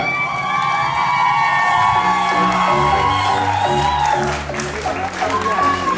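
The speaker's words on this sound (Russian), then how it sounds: "Давайте похлопаем очень-очень громко." A lively audience claps loudly for contestant number one at a summer show, mixed with whoops and cheering shouts, with some voices and music tones running through the steady applause.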